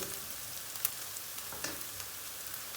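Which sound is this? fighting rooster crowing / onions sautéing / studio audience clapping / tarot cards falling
onions sautéing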